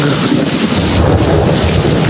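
Loud, close thunder rumbles through a heavy rainstorm on the way home from work to a dorm, a continuous wash of pouring rain filling the background.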